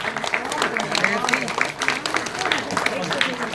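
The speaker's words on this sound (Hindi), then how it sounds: "एक बार जोरदार तालियां।" Applause from the audience at the close of a parliamentary-style debate competition final, with steady clapping throughout and an announcer's voice running over it.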